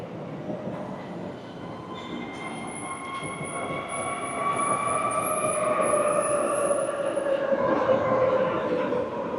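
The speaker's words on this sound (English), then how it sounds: "So I'm definitely not running to catch this train that I'm about to miss." A Medellín metro train pulls into a station, a rising rumble with long metallic wheel squeals and high whining tones sliding across, heard from the platform amid faint background voices.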